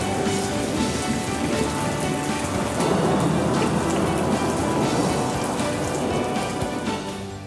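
Steady rain falls in Lahore, drumming densely and continuously on surfaces, close and loud, with no voices over it.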